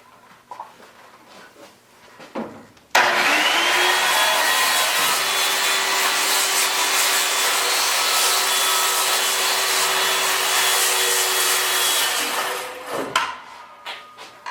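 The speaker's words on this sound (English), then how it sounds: "And then I'm going to be using my circular saw." Circular saw with blade set about half an inch deep cutting wood for a raised garden bed, starting abruptly and running a loud, steady whining cut for about ten seconds before spinning down amid some handling knocks.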